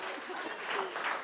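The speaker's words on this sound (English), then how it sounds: "je crois qu'on peut applaudir ça" Audience applause, a steady dense clapping that stays even across the short stretch, with voices mixed in underneath.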